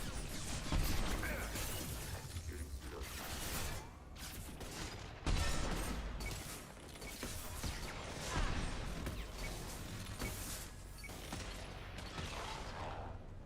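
Rapid bursts of automated turret gunfire in the Mass Effect 2 sci-fi shooter, loud and dense, with a clattering mechanical edge and crashing impacts running steadily throughout, with no voices.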